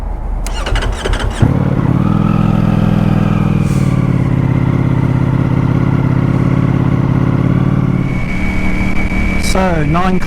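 A motorcycle that is nearly new, with only delivery kilometres on it, is ridden on the road. Its engine drones loudly and steadily up close under buffeting wind, with a brief whine toward the end.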